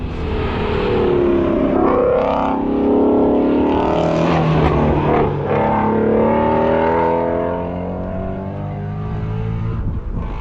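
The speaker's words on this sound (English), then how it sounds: "That car looks so good going down the road." A Chevrolet Camaro SS 1LE drives by on the road with a loud, sustained V8 roar that swells as it nears and then eases off, with engine tone shifting through the pass.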